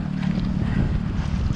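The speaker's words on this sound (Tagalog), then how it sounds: "Grabe yung hangin." Strong wind buffeting the microphone on a rainy motorcycle ride near Infanta, a constant loud low roar with gusty rumble throughout and no talk.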